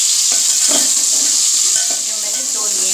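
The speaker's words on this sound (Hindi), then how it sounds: "तो मैं इसमें आलू डालती हूँ। मैं इसमें आलू डाल दूँ" Cut potatoes tumble into a pan of frying garlic and ginger, with a constant loud sizzle, light stirring scrapes and a few soft clinks, no talking over it.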